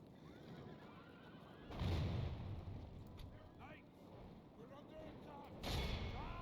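Artillery in a Medieval II battle fires two heavy, muffled booms a few seconds apart, each a broad low thump rising out of a constant rumbling battlefield din, quiet and distant in the mix.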